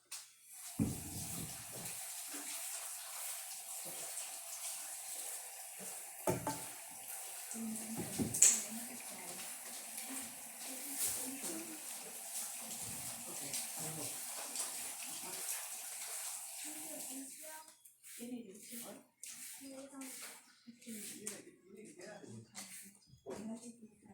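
Water runs steadily from a kitchen sink tap during washing, a continuous gushing hiss that stops near the end, with voices talking over it.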